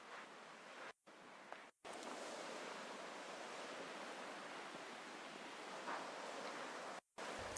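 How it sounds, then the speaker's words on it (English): Steady wash of surf on a beach at La Palma, a dense broadband roar that stays even and fairly quiet, cut briefly by two short dropouts near the start and one near the end. "I just have this recording of me on a beach at La Palma"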